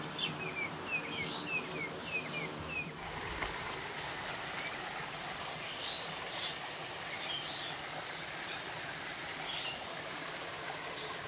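Water streams steadily out beneath a village bridge in Barbakpur, Karimpur, Nadia, a constant low rush with a few thin bird chirps high above it.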